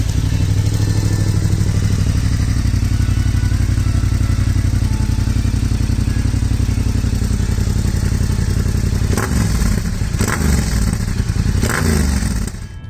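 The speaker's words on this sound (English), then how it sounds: "Exhaust sound of Yamaha Tracer 7 GT." A Yamaha Tracer 7 GT motorcycle exhaust rumbles loud and close at a steady idle, a deep continuous throb with brief rises near the end.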